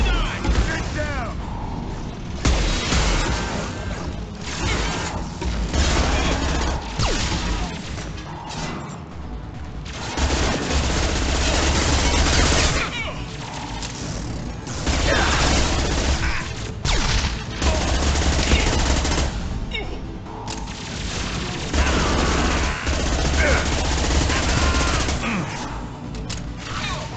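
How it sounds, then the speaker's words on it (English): Heavy, sustained gunfire from an impact gun in the sci-fi shooter Mass Effect 2, with loud rapid bursts, booming impacts and short pauses repeating over nearly half a minute of combat. "Firing an impact gun."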